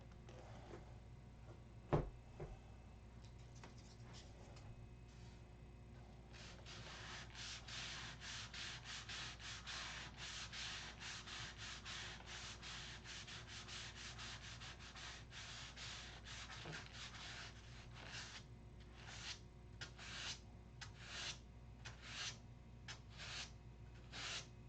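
Steady scratchy rubbing of hand sanding, with short back-and-forth strokes forming a brisk rhythm, close and moderately loud, ending in more separated strokes.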